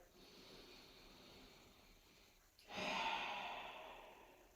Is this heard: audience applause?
no